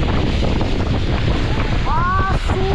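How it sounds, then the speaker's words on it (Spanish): A swollen river rushes after Hurricane Lidia in Jalisco, a loud continuous roar of churning water mixed with heavy wind buffeting close to the microphone, with a brief higher tone partway through. "Este es el río del Chino."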